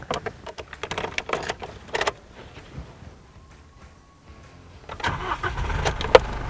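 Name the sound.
diesel SUV engine starting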